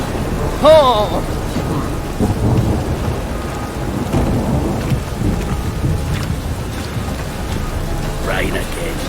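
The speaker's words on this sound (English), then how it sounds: "Rain again." Heavy rain pours steadily on surfaces during a thunderstorm, with deep thunder rumbling underneath and a brief voice exclamation near the start.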